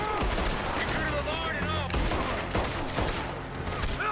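Dense, overlapping gunfire in the western video game Red Dead Redemption 2, rapid shots and fusillades amid game music and effects, loud and continuous, with some voices mixed in.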